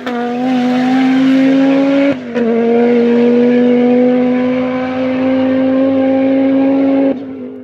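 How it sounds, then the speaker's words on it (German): An inline five-cylinder car engine runs loud and close with a steady, strongly tonal hum, briefly cut off once and then resumed, with no speech. "der gute Reihen-Fünfzylinder. Wer kennt ihn nicht aus Autos wie dem Audi Quattro"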